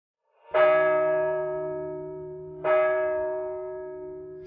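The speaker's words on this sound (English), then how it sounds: "Suddenly, some bells began to ring." Two loud, clear church bell strikes ring out a couple of seconds apart, each one humming and slowly fading, with no voices.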